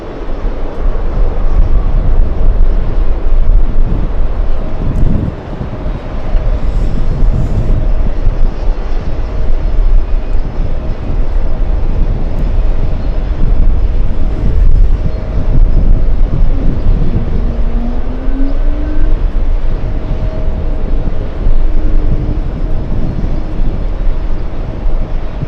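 Delta 979 heavy jet airliner at JFK airport, a loud sustained engine roar with constant rumble and some wind buffeting on the microphone, lasting throughout.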